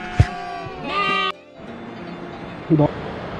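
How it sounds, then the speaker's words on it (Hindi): Sheep and goats at a shepherds' camp on the Roopkund trek in Uttarakhand give several close, wavering bleats, with a few short cries in between. "जो भेड़ बकरियों के छोटे छोटे बच्चे यहाँ पर रखे जाते हैं और साथ में भेड़ बकरियों को सिक्योरिटी देने के लिए साथ में कुछ कुत्ते होते हैं।"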